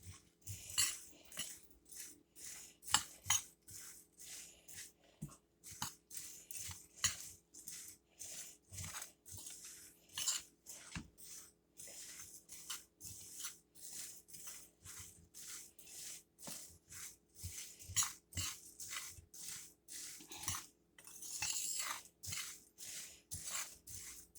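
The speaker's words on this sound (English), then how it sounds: "I'm just going to mix this up a little bit" A utensil rhythmically scrapes and clicks against a bowl while pumpkin oat bar batter is mixed, quiet, close strokes repeating steadily about twice a second with no talking.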